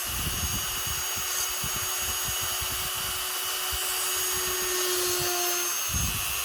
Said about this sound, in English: drill a hole in the TV while we're at it